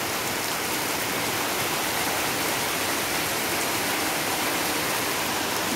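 Dense, steady roar of heavy rain pouring down without pause, loud and close, with no voices.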